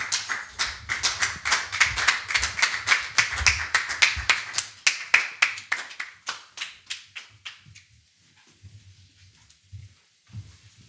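A church congregation applauding, a run of brisk rhythmic claps that thin out and fade into scattered taps toward the end, with no voices heard.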